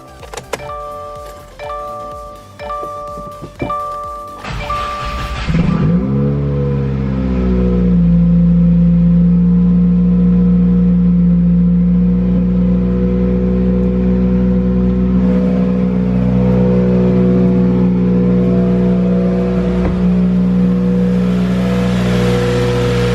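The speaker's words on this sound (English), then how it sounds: "start her up and make sure she sounds good" A 2015 Subaru WRX with its FA20 engine, fresh from a spark plug change, cranks and catches a few seconds in, then settles into a loud, steady idle with a deep even hum. Another sound plays briefly before the start.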